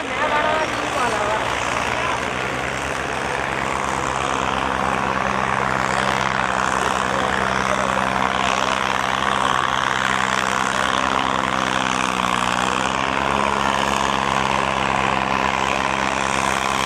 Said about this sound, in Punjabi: 53 ਦਾ ਜੌਂਡੀਅਰ ਆ ਦੁਨੀਆ ਦਾ ਨਾਮੀ ਟਰੈਕਟਰ ਆ